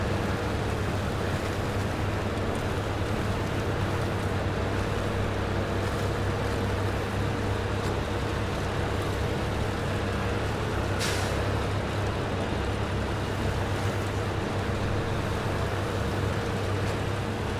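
A truck engine in the video game SnowRunner holds high gear in a steady, continuous drone with a low rumble that stays loud and even throughout, with no voices.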